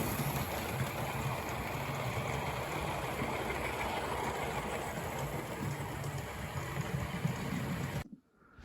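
Steady mechanical running of a Hornby R3864 'Lode Star' model steam locomotive running light, a continuous whirring hum with faint rhythmic chuffing, fairly close, ending abruptly in near silence.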